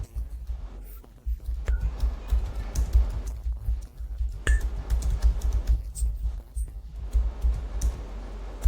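Fast typing on a computer keyboard, a continuous close clatter of keystrokes with brief pauses between bursts.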